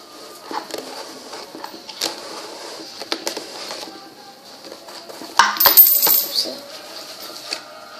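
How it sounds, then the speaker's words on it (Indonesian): Coins clink and drop into a homemade Aikatsu card machine as it is turned, with scattered metallic taps and a louder rattling burst of coins near the middle. "Masukkan koin lagi, lalu putar"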